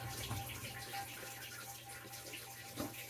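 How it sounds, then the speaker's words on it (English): Water poured from a tap into a 1-gallon bucket holding bone meal fertilizer, a steady close rushing splash running throughout with no talk. "So I just added to a 1 gallon bucket, and then I add some water to it."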